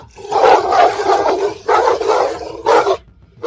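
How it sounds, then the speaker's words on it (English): Guard dogs barking loudly, three close, forceful bursts of deep barking separated by short gaps. "they rushed forward, barking loudly and refusing to step back."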